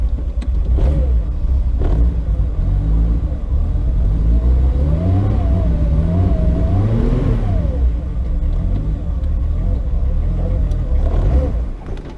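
A Volkswagen Corrado's engine runs rough and is revved hard, a loud, close mid-range drone that rises and falls in uneven surges and won't settle into a steady idle.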